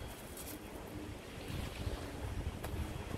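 Sea waves wash steadily onto a beach in Ceuta, with gusting wind buffeting the microphone in a continuous, even roar and no voices.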